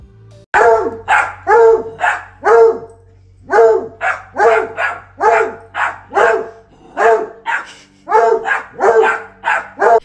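A dog, one with only two legs, barks loudly and repeatedly in quick bursts of two or three, the yaps close and clear over a faint low hum, with no talking.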